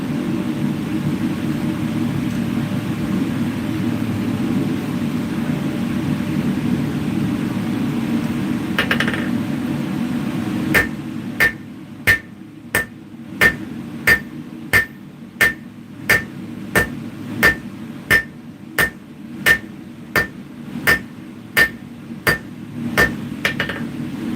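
Heavy blows from a large power hammer forging small metal items, striking in a steady rhythm of about two hits per second after a stretch of low humming background, loud and close with no talk.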